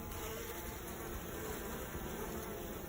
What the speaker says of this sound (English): They're just licking up that spilled honey.